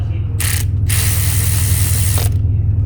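A ratchet wrench tightens the brake caliper bolts on a 2014-2019 Toyota Highlander, two close bursts of rapid clicking, a short one then a longer run, over a steady low hum.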